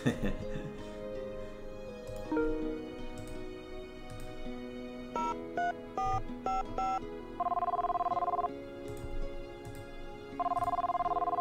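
In the visual novel game YU-NO, a telephone rings with electronic tones that grow from scattered beeps into a sustained, repeating ring, loud and close, over soft background game music.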